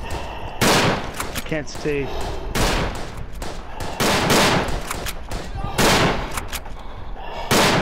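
Gunfire in the World War I shooter Verdun: rapid bursts and single shots, loud and close, repeating across the whole stretch, with a voice speaking briefly over the shooting.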